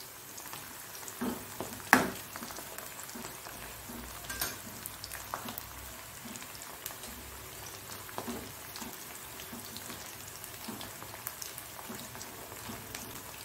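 Bitter gourd frying in a pan over high heat, a steady soft crackling sizzle with scattered pops and one sharper clatter near the start, heard alone without talk.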